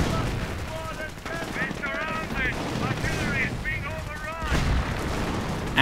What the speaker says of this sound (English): And the rifle grenades just keep flying.